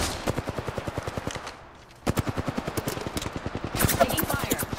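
Rapid automatic gunfire in the video game Apex Legends, with sustained bursts of evenly spaced shots, a brief lull near the middle and then heavier overlapping fire near the end.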